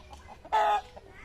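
Chickens inside a farm coop, one short, loud squawk standing out over quieter scattered clucks and rustling nearby.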